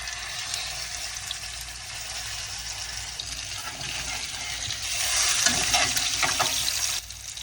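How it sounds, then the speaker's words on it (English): Crab-stuffed salmon seasoned with smoked paprika and Old Bay cooking in a pan, a steady close sizzle that grows slightly louder midway with faint scraping touches, no speech. "I'm gonna cook the top till it gets a nice color."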